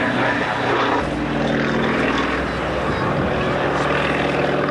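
A propeller aeroplane flying aerobatics at the RAF Valley Air Show, Anglesey, 1991, makes a loud, sustained engine drone and whine that shifts slightly in pitch as it manoeuvres overhead, steady and unbroken for several seconds.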